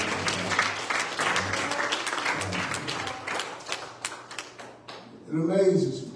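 A church congregation claps their hands together at a service, a busy patter of many hands that thins out near the end before voices and a louder burst take over.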